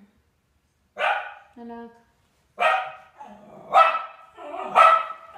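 A pet dog barking indoors, four sharp close barks spaced a second or so apart with a short whine between, while a person speaks briefly.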